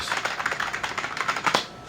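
Fingers type on the keyboard of an Apple Macintosh SE computer, a close, quick run of irregular clicking keystrokes that goes on for about two seconds with no talk.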